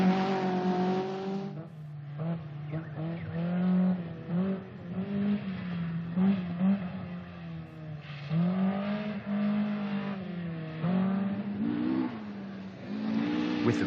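A 1979 rally car speeds along Australian back roads, its engine note rising and falling through gear changes in a steady, moderately loud drone.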